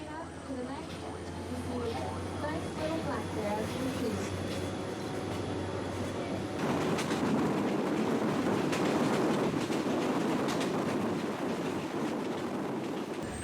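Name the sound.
train running on rails in Alaska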